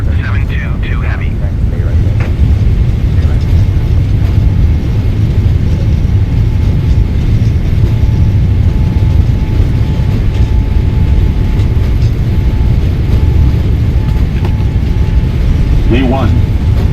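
A Boeing 777-300ER jet airliner makes its takeoff roll from Singapore in cloudy weather. From inside, a loud, dense engine and runway rumble builds and holds throughout, with a brief chirp near the end.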